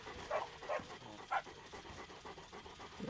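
A dog in the LittleBigPlanet video game pants in quick, rhythmic huffs, a series of soft breathy bursts repeating at a steady pace, fairly quiet and close.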